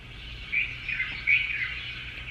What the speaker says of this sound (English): Heavy Morning Bird Ambience in an Outdoor Courtyard by Nature Sound Collection